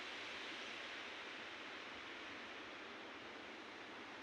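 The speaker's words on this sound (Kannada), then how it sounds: "ಇದು ಭೀಮಾ ನದಿ ತುಂಬಿ ತುಳುಕುತ್ತಾ ಇದೆ" The Bhima river runs in full flood near a bridge, a steady, even wash of rushing water, fairly faint and unbroken, with no voices.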